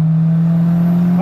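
A turbocharged 200 hp Volkswagen Voyage accelerates hard on the street, its engine a loud, steady low drone with a rising whine building near the end.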